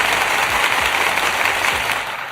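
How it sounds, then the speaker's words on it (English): Applause fills a live after-show stage, a loud, continuous spray of clapping from a crowd that fades slightly toward the end. "Let me applaud myself."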